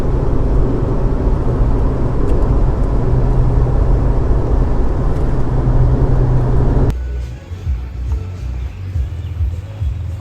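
Steady drone of a car with a 2.2 engine and eight-speed automatic gearbox cruising at 100 km/h around 1,500 rpm, heard from inside the cabin as broad road and engine rumble that drops abruptly quieter near the end.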